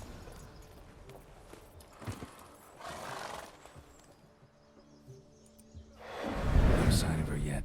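A horse in The Witcher 3: Wild Hunt, Hearts of Stone, whinnies when spooked by a ghost. Hoof clip-clops and game ambience come first, and a loud, close neigh rises near the end.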